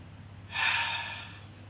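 A sudden breathy exhale in the horror game The Shock, like someone breathing on the back of the neck, swelling loudly at first and then tapering off over a low steady hum.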